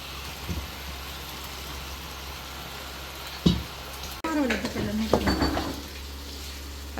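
Macaroni is stirred in a frying pan over a soft sizzling background, with a few scraping and clattering bursts from the spoon and a louder stretch of stirring in the second half.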